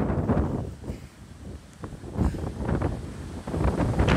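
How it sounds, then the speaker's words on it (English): Strong gusty wind buffeting the microphone on the Pacifica fishing pier, a loud rumbling roar that surges and eases over a few seconds with no talk. "Ooh, it's windy today, bro"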